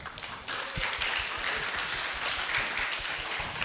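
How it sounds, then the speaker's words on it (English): A lecture audience at a general lecture on the Ukraine–Russia war and the International Criminal Court breaks into applause, a dense, moderately distant wash of clapping that swells after a brief pause and holds steady. "Big applause again for us."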